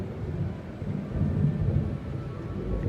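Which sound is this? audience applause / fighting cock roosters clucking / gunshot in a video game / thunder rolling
thunder rolling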